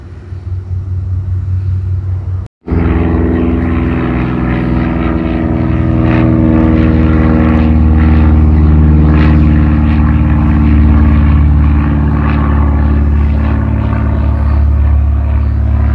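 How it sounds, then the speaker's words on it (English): A loud, steady propeller-aircraft roar from planes taking off near a backyard at night drones on without letup after a brief cutout near the start, with no voices over it. "a lot of planes taking off and busy night right off the backyard"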